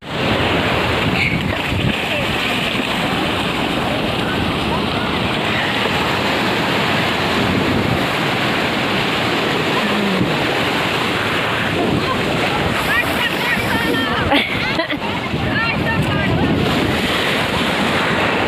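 Sea waves break continuously on the shore in a loud, steady roar, with wind buffeting the microphone throughout and faint voices now and then.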